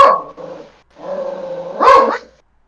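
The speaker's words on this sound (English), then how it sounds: "What are you barking at?" A dog barks and growls close by in a few loud, rough bursts, with short pauses between them, heard alone without talking.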